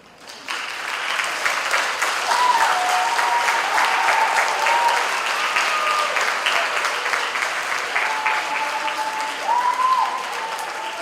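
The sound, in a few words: graduates and audience applauding at a graduation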